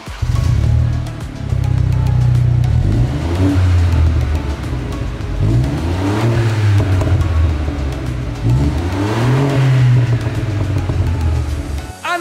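A BMW 118i with the exhaust back box deleted and forged carbon tips revs loudly up close, a deep engine note rising and falling in three swelling pulls over a steady idle rumble.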